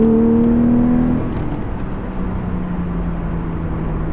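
A car accelerating hard in second gear onto a highway, engine note climbing loudly for about a second before easing into a steady, quieter drone with road and wind noise.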